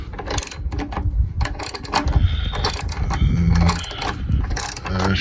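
Tightening a running board step mount on a lifted 2020 Chevy Silverado with a ratchet, close clicking and metallic clunks in irregular bursts with creaky mechanical rattles.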